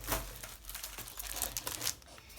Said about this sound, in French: Je vais couper des languettes de papier qui vont mesurer 5 cm et demi sur, du coup, 14 et demi de haut.